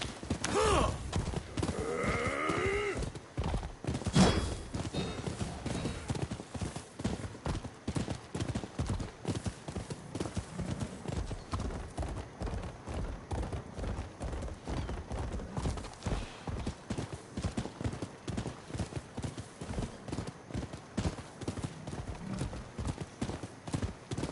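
Horse hooves clip-clop on hard ground in the video game Rise of the Ronin, a continuous rhythmic trot heard up close after a short whinny at the start.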